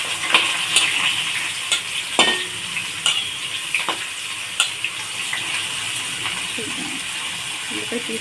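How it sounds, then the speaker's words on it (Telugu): Onions, tomatoes and green chillies for a thalakai curry frying and being stirred in a pan, with a steady sizzle and repeated scraping clicks of a spoon against the metal. "ఉల్లిపాయలు వేసుకుంటున్నానండి, టమాటాలు వేసుకుంటున్నాను, పచ్చిమిరపకాయలు."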